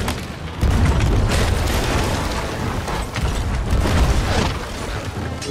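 Ship cannon fire and explosions in a Sea of Thieves-style naval fight aboard the Burning Blade: loud, dense booming blasts and rumbling impacts that keep going, with a few sharper bursts in the mix.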